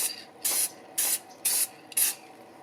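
Four short hissing bursts from a Krylon acrylic sealer spray can, evenly spaced about half a second apart, close and fairly loud against a quiet background.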